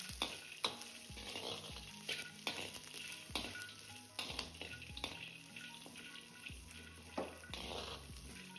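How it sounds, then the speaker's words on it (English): Pieces of fresh coconut frying in a pan, with continuous crackling sizzle broken by repeated scraping stirs at a steady rhythm, fairly quiet and close. "Now take a half shell of a fresh coconut and cut into pieces. Then add and fry 2 to 3 minutes."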